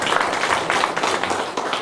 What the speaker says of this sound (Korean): 우리 집사님 우리 축하의 박수 한번 좀 해주시고